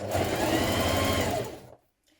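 Sewing machine stitching the side seams of a gathered top runs in a loud, fast, steady whirr for about a second and a half, then stops abruptly into near silence.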